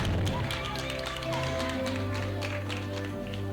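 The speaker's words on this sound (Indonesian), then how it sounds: "Kasih tepuk tangan yang meriah." An audience at a class ranking award ceremony at an Islamic elementary school (madrasah) claps in a dense, steady patter, fairly loud, with a low hum and some murmuring beneath.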